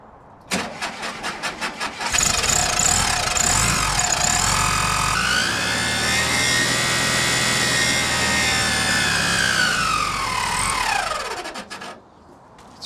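A VW Beetle TwinPort engine starts with a few cranking pulses, then runs steadily up close while a fan rubs, adding a raspy scraping whine over the idle until the engine cuts off.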